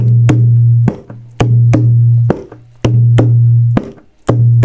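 A dholak played for an aarti hits deep, resonant bass strokes in a steady repeating rhythm with sharp slaps between them. It is close, loud and alone.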